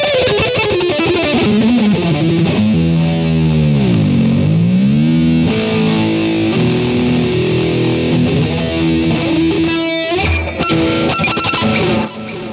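A Kramer Jersey Star reissue electric guitar in candy apple red, with a maple neck, played through heavy distortion: loud, sustained chords and bending notes ring out continuously, ending with a few choppy strums.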